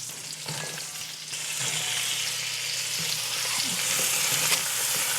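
Vegetables and starches tossed into a hot pan with onions and garlic, a loud continuous sizzle that swells after a clattering toss and keeps frying steadily.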